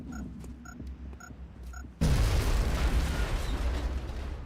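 A frag grenade goes off in the XCOM video game, a few faint clicks then a sudden loud blast at about two seconds that rolls into a sustained, dense rumble of debris and noise, with no speech.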